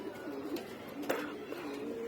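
Soft, repeated coos of a visiting pigeon at a home loft, low and fairly close, with a couple of faint wingy rustles in a quiet setting.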